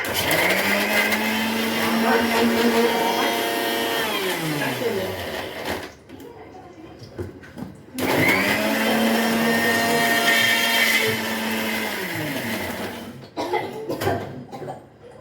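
A kitchen mixer grinder whirs through coriander, mint, ginger, garlic, onion and green chilli in two long, loud bursts separated by a short pause. The motor pitch drops audibly as each run winds down.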